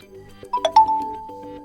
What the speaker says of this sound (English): let's change the notification sound. Tap on the icon and then pick the ringtone.